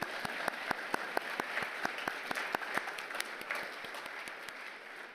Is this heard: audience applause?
yes